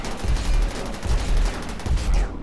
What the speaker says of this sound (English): This is the Inferno Cannon.